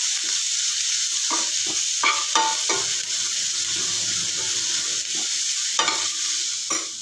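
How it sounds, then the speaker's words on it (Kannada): Onion and garlic fry in a pan with a steady broadband sizzle, broken by several sharp scraping stirs of a spoon against the pan; no voices. "ನೋಡಿಪ್ಪ, ಈರುಳ್ಳಿ ಬೆಳ್ಳುಳ್ಳಿ ಫ್ರೈ ಆಗಿದೆ."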